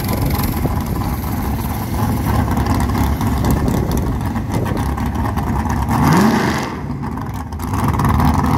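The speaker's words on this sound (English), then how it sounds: "we've got an old gasser, like a 60, early 60s Comet." An early-1960s Comet gasser drag car sits at the track, its engine rumbling loud and close at a steady roar, then rising in a quick rev near the end before settling back.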